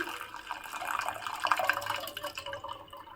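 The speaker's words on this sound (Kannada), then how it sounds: "ಈಗ ಒಂದು ಪಾತ್ರೆಗೆ ಶಿಫ್ಟ್ ಮಾಡ್ತಾ ಇದ್ದೀನಿ" Pressure-cooked horse gram being shifted into a vessel in a village kitchen, a close, wet, sloshing pour with continuous liquid splashing that peaks midway and then tapers off, no talking.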